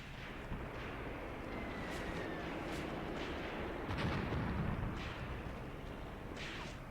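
Artillery fire in the Graviteam Tactics war game rumbles as a continuous low barrage of muffled booms and distant thuds, with a heavier burst of impacts near the middle.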